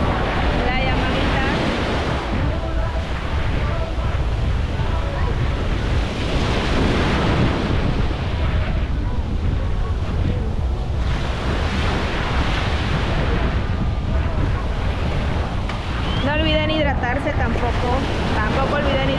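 Surf and strong wind at Playa Mamitas beach in Playa del Carmen make a constant loud roar with breaking waves throughout, while a person speaks over it.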